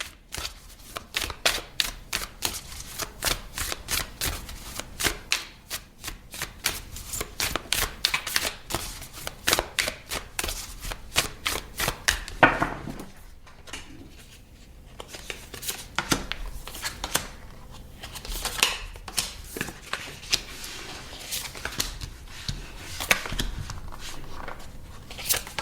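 Tarot cards shuffled by hand in long runs of rapid, crisp riffling bursts, close and clear, with a short pause midway before shuffling resumes, and no talking.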